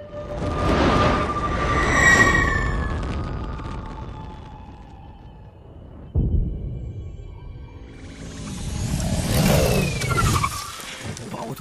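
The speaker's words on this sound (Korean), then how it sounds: "와, 오토바이 멋있다." A motorcycle engine revving in the Ratchet and Clank video game, two loud rising and falling roars separated by a quieter stretch with a sudden thump, heard alone.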